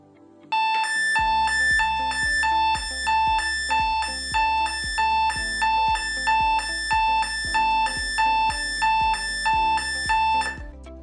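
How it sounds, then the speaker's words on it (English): A loud electronic pre-alarm from a personal alert pendant, set off by pressing its button during a system test, rings out as a rapid, steady train of bright, bell-like beeps that repeats for about ten seconds, up close with no voices. "When you press your pendant button, a loud pre-alarm will sound"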